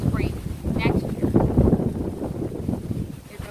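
Strong wind gusting outdoors in a garden, buffeting the microphone with loud, rumbling low-pitched roars that swell and ease, with a few faint bird-like chirps early on.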